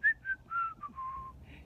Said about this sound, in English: She whistled more songs to her blooms.